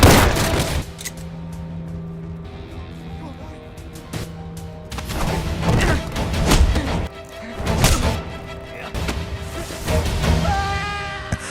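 Gunfire in an action film about a hitman, bursts of shots and heavy thuds in a chaotic scene, with music and other effects mixed underneath.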